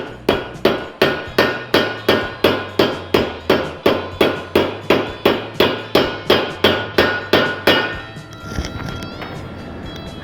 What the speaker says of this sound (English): So I gotta hammer it in.